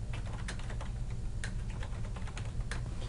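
Text being typed on a computer keyboard: a steady run of close key taps in an even rhythm over a constant low background hum, with no speech.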